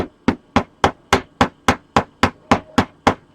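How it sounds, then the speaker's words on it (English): A small hammer gives eleven evenly spaced light taps on a 3D printed joint of a custom Springtrap figure being assembled, each a sharp close knock with a quick decay, with no talking. "what I'll do is I'll take a little hammer and"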